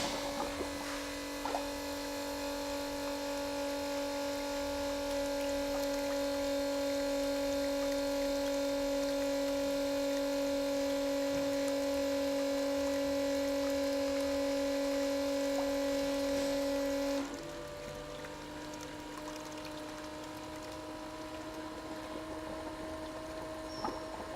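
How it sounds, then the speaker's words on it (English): An RV macerator pump grinding up and pumping out a holding tank, a steady loud motor whine with strong droning hum that holds for about seventeen seconds, then drops abruptly to a lower, lighter buzz as the load changes. "now I'm going to flip on the switch, which is going to turn this pump on and grind whatever's in that tank up and pump it out."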